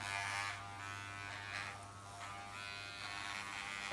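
Corded electric hair clipper buzzing steadily at close range during a home haircut, with the pitch shifting slightly as it moves through hair.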